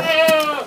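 A goat bleats once, a short, near, wavering cry heard alone on a farm where stems are used as goat feed.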